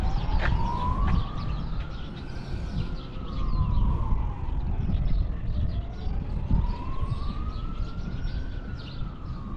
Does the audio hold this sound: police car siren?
yes